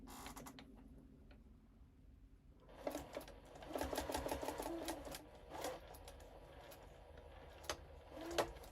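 A home sewing machine stitches a quilt block for a bunny pattern using foundation paper piecing. A quiet pause gives way to a close, rapid mechanical whir and chatter in short bursts, with a few clicks and no talking.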